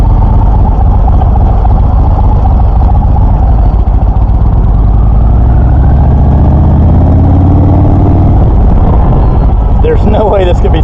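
A 2018 Indian Chieftain Limited motorcycle engine rumbles loud and close on a test ride, a deep steady drone that rises in pitch as it accelerates toward the end, with a voice talking over it.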